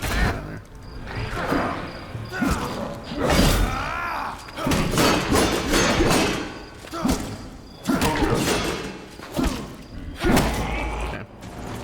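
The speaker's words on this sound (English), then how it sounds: "Those were the bombs." Explosions from bombs in the video game Enshrouded, a series of heavy thuds and blasts with crumbling debris, repeating irregularly over the stretch with game music or effects beneath.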